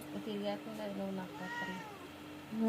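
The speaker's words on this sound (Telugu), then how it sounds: "ఈ పిల్లి చూసారా మరి వచ్చి రాగానే ఆకలి ఆకలి అంటుంది" A hungry cat meows repeatedly at close range, its rising and falling calls coming in quick succession with a person talking over them.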